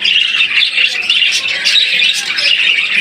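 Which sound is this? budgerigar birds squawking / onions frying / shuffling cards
budgerigar birds squawking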